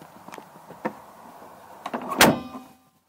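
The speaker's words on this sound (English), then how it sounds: "My emergency exit door" A school bus emergency exit door operates with a mechanical whir and a sharp latching clunk, close and moderately loud, then the sound stops.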